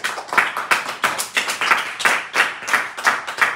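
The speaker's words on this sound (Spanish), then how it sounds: "Denle fuerte aplauso al Señor." A church congregation at a prayer service claps together for the Lord, a lively run of sharp, evenly spaced rhythmic claps close by, about three per second, with no one speaking over it.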